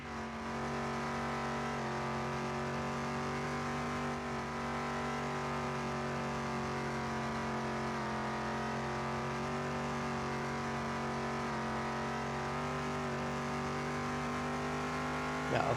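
A car in Car Mechanic Simulator 2021 drives laps, a loud, continuous engine drone holding steady with small shifts in pitch, alone without talk.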